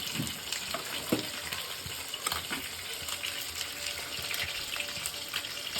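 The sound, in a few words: mustard oil poured into a hot wok, sizzling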